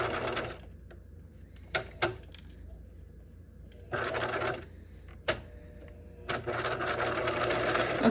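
Sewing machine stitching knife pleats in fabric, running in steady bursts of rapid needle chatter with short pauses and a few sharp clicks between runs, fairly close and clear.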